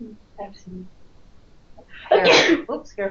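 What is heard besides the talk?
sneeze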